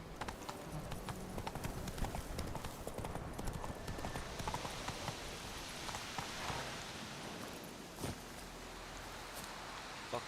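Horse hooves clip-clopping steadily on the ground in The Witcher 3 video game, a continuous close trotting rhythm over a rainy ambient bed, with no talk.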